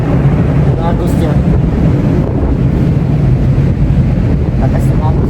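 Strong wind buffets the microphone over rough waves on the open sea from aboard a boat, a constant loud roar with surf washing throughout the few seconds.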